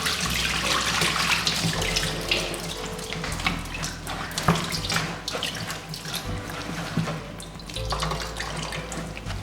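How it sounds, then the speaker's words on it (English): Clean water pours and splashes into a bowl of fermented grain flour being prepared for akamu, a steady running trickle with small drips and stirring sloshes throughout, close and continuous. "I'm going to add a little more water."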